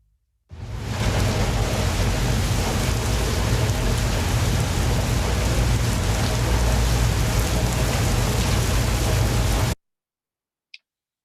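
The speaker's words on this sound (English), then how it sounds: "What do you think we could do when there's loud rain?" Heavy, loud rain pours steadily and densely for about nine seconds, a constant broadband wash that cuts off abruptly, followed by a brief faint tick.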